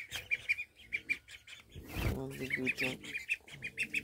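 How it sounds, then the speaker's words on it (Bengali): Small ducklings and Chinese ducks eager for feed give rapid repeated peeping calls and quacks, close by and fairly loud, while a person speaks briefly in the middle. "এগুলো হচ্ছে আমার ছোটো ছোটো হাঁসগুলো"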